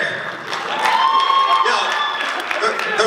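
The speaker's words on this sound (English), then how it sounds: "Let's give him a clap for RJ Cass." A high school show crowd claps and cheers for a student performer, a busy, loud mix of applause, whoops and shouting voices that carries on for the whole stretch.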